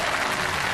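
A TV variety-show studio audience bursts into loud, dense applause, a brief close wash of clapping with no voices heard.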